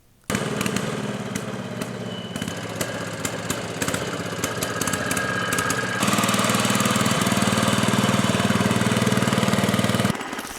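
An Allis Chalmers 310 garden tractor engine runs roughly at close range with a loud, uneven putter and sputtering misfires, shifting to a slightly higher, steadier pitch midway before cutting off at the end.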